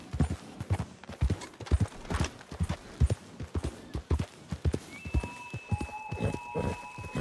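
Steady clip-clop of a horse's hooves at a brisk pace in Red Dead Redemption 2, close and loud, with a faint high whine appearing partway through.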